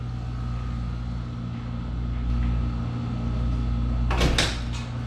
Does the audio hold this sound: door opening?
yes